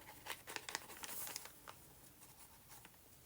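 Thin journal paper crinkling as a page of a flower journal is opened, a quiet, close run of soft crackles and rustles that fades into light scattered ticks.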